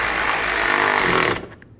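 A power tool runs loud and steady, tightening the bumper bolts on a 2013–19 Nissan Sentra, then cuts off abruptly near the end, leaving a few faint clicks.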